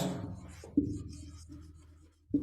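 Chalk or marker writes on a classroom board in a few short scratchy strokes, close and fairly quiet, with a brief pause between them.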